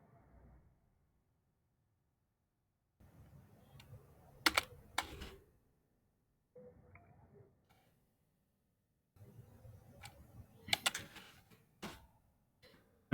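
Bursts of typing on a computer keyboard come in three separate runs of rapid clicks with a few sharper keystrokes, separated by short quiet gaps, fairly close and moderately loud with no talk.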